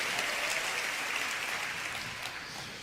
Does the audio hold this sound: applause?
yes